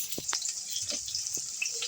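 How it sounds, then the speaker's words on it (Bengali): Steady sizzling hiss of onions frying with bay leaf in hot oil in a kadai for a meat curry, close up, with a few soft stirring knocks. "পেঁয়াজটাকে আবার একটু ভেজে নিচ্ছি"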